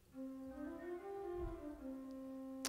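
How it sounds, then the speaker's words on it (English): A principal stop on a pipe organ's positif manual plays a brief phrase of held, pure-toned notes that change pitch a few times, soft and even, with a small click at the end. "Here's a principal on the positif."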